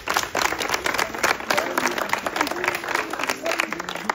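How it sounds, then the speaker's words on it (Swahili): An audience at a Lutheran seminary gathering applauds itself in a dense, steady burst of clapping, with voices and cheering mixed into the applause. "Tujipigie makofi sote"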